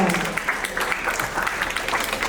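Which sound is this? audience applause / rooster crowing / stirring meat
audience applause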